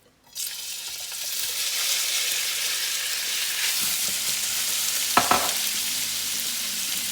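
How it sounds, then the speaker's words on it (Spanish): Bacon sizzles steadily in a hot frying pan, a loud dense crackle that starts abruptly as it hits the oil and continues throughout, with a brief clatter of utensil movement near the end. "ya está caliente en mi sartén. Le voy a agregar el tocino."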